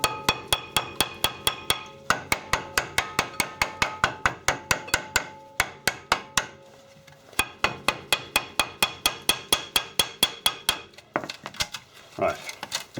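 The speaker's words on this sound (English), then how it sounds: "give it a tap with a hammer and then pull it off" Sharp metallic hammer taps on a Mercedes rear brake disc, struck to loosen it: a long run of evenly spaced, ringing blows, close and loud, with a brief pause midway and a few rougher knocks near the end.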